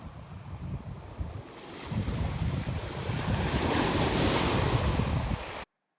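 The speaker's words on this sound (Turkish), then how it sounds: "Bu dalga sesinde huzurun sesini aldığımı düşündüğüm için biraz sizi dalga sesiyle baş başa bırakayım." Mediterranean sea waves break and wash onto the shore at Anamur, Turkey, a steady roar that builds louder toward the end, mixed with gusty wind noise on the microphone, then stops abruptly.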